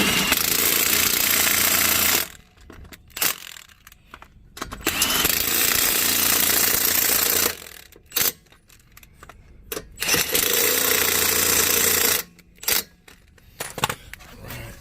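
A Milwaukee impact wrench tightens lug nuts on a car in a cross pattern, firing in loud, close rattling bursts separated by short pauses and clinks of metal, with no voices.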